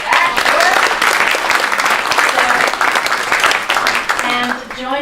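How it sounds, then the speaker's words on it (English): A conference audience breaks into loud, full applause that holds steady for several seconds, with a voice briefly audible near the end. "we can applaud for them as they come back"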